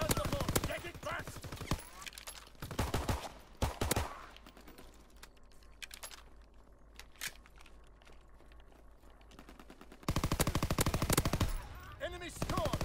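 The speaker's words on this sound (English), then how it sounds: "Flak guns firing." Flak guns firing in a video game, dense rapid bursts of automatic gunfire at the start and end with sparser shots between.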